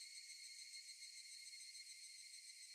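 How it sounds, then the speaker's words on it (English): Steady, unbroken cicada chorus from the video game Higurashi: Tatarigoroshi-hen, a dense high-pitched buzzing drone that holds evenly throughout with no talking over it. "We're gonna hear the cicadas again."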